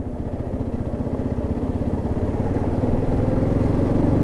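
A Yamaha XTZ Lander 250 motorcycle engine throbs close and loud with a steady low pulsing rumble, holding a constant pace without talk.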